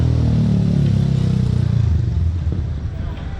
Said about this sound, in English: Wouldn't be complete without some idiot on a bike making noise